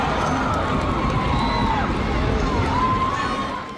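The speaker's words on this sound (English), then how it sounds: "Cheering for Team Hungary, of course." Hungarian fans cheer for Team Hungary, a dense crowd roar that runs steadily, with voices mixed into the noise and a few whoops rising above it before it fades slightly at the end.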